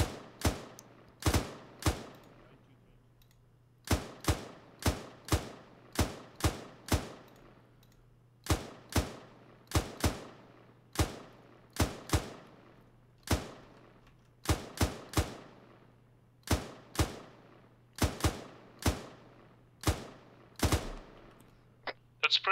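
Rapid bursts of weapon fire in Arma 3 crack out repeatedly across the whole stretch, loud and close, each burst trailing off into a low steady hum.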